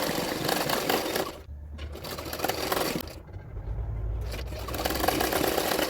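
Sewing machine runs a fast, steady whirring stitch through fabric for a size 40 double katori blouse, pausing briefly twice before resuming its continuous hum.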